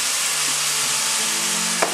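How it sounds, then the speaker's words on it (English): A constant loud sizzle from chicken stir-fry with thick sauce in a hot pan, bright and hissing throughout, with a faint tap near the end. "So you hear that sizzle? That sizzle sizzle?"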